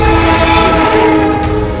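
A Darjeeling Himalayan Railway train passes close by in the hills, its loud, steady horn blaring throughout over the rumble of the moving cars.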